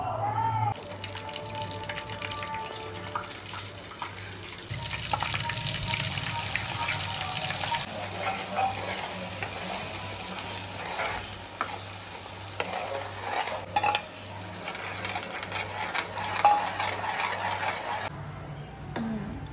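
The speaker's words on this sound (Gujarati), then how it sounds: "અને બસ હવે ક્યુરી હમણાં વઘાર કરશે" Bhaji gravy being tempered and stir-fried in a pan, a moderate sizzle with stirring and scraping that swells midway and settles again, with faint background voices.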